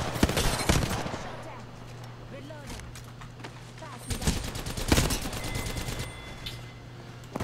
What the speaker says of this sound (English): why is this thing shooting me?